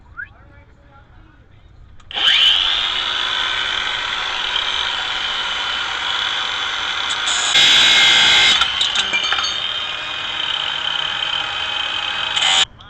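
A power tool whines loudly and steadily as it cuts long bolts to length on a 1993 Ford Bronco sway bar and rear lift job, rising briefly into a harsher grinding burst midway before stopping abruptly.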